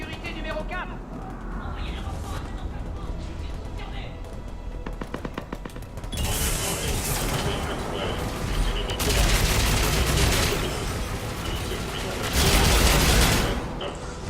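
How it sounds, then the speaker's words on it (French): Enemy gunfire in the video game Mass Effect 3, a dense crackle of shots that swells into louder, sustained bursts in the second half, mixed with game sounds and voice chatter. "Nous essuyons des tirs ennemis depuis la base de sécurité numéro 4."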